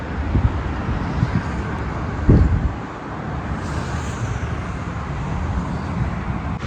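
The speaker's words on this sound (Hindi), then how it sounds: "तो ये देखो अभी माशाल्लाह कैसे हवा चल रहा है" Steady outdoor wind roars across the microphone in hot Dubai weather, a continuous broadband rush with a few low gusty thumps, no talking.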